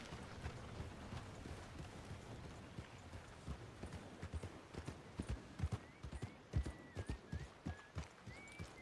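Horse hooves clip-clop at a steady riding pace in the Western video game Red Dead Online, rhythmic and close, growing louder toward the end with faint tonal music in the background.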